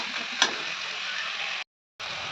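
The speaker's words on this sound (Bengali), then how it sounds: "এবার হালকা করে নাড়াচাড়া দিয়ে গ্যাসের ফ্লেমটা একটু কমিয়ে দেবো" Shrimp and taro stolons frying in a pan, a steady close sizzle with one sharp clink of the stirring spoon, cut off by a brief silent gap before resuming.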